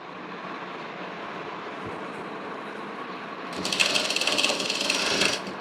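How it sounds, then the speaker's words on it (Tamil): Quiet room tone gives way to a short, fast rhythmic burst of a sewing machine back-stitching fabric on a dress collar, lasting about two seconds before stopping. "இப்போது நான் இந்த இடத்துல பேக் ஸ்டிச் போடுறேன்."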